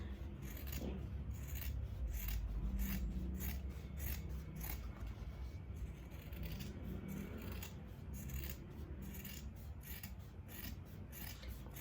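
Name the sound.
scissors cutting fabric along a drawn line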